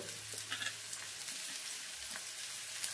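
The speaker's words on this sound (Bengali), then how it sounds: "এবার বাঁধাকপিটা দিয়ে হালকা আর একটু ভেজে নেবো" Shredded cabbage fries in a pan, a continuous close hiss of sizzling oil with faint stirring, no voices.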